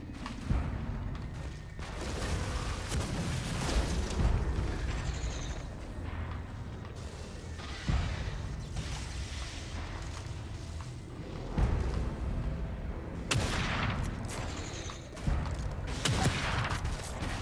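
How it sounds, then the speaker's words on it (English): Gunshots fired at a monster in The Evil Within 2, several sharp bangs spread through a dense, noisy game mix of rumbling ambience and mechanical sounds. "So I'm just going to pop off a few shots at him."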